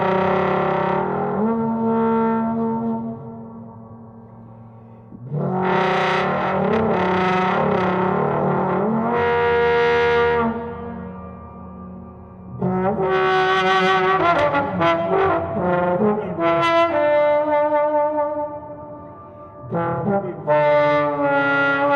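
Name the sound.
music with natural acoustic distortion and vocalizations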